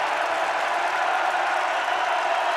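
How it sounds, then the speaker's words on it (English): Crowd noise from basketball fans at Fifth Third Arena during a Cincinnati home game, a dense, loud, sustained roar of cheering that fills the whole moment without a break. "And listen to this crowd."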